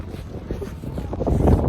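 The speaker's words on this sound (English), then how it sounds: "It's cold, it's windy." Steady low wind rumble buffets the microphone throughout on a cold beach, swelling louder toward the end, with no speech.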